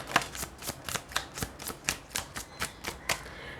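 A deck of tarot cards is riffled in quick, evenly spaced bursts, about a dozen crisp flutters in steady rhythm, close and clear with no talking.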